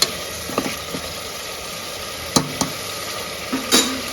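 Masala fries for tomato pulao in a pan, a loud, steady sizzle close by, broken by a handful of spoon scrapes and taps against the pan.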